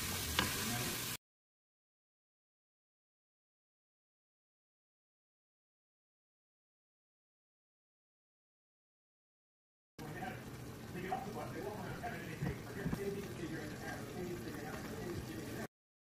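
Beef and broccoli stir-fry sizzles in a pan with a steady broadband hiss and crackle, starting after a brief burst of sound and a long stretch of silence.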